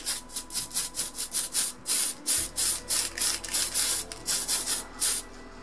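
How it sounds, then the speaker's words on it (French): A spray paint can hisses in a rapid series of short, regular bursts, close and loud, with a brief clatter partway through, during a custom paint job on a Taeyang figure. "Donc on ressecoue la bombe et on recommence"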